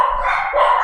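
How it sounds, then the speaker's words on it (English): A dog barks excitedly and continuously at close range, the sharp repeated barks loud and filling the whole moment without pause. "dog's going nutty."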